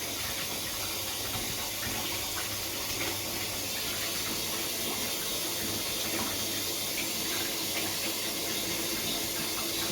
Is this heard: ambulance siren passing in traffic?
no